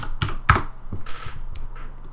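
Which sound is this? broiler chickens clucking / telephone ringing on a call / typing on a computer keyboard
typing on a computer keyboard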